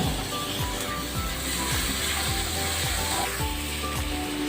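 Ginger, garlic and two tomatoes sautéing in a pan for Madurai chicken salna: a steady, close sizzle with soft rhythmic scraping from stirring, no voices.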